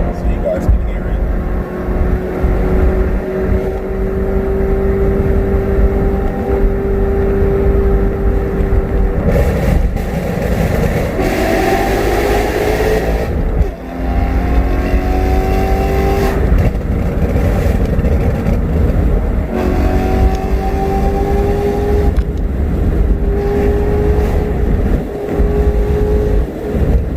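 A BMW E92 M3 with an ACM muffler mod drones and revs loudly, its pitch climbing and falling through gear changes with an echoing resonance while passing under a bridge.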